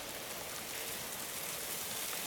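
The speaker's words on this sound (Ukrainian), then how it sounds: "Чуєте, як сиплеться крига з дерев?" Ice shedding from branches in a winter forest as the sun warms them, a faint, steady patter and hiss of small fragments falling like hail onto the ground, continuous with no talking.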